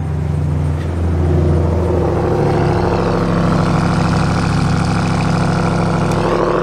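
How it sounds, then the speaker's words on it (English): A 2022 Ram TRX's V8 engine idles with a steady, continuous low rumble, heard from a slightly muffled, distant position with no talk over it. "Ah, listen to that V8."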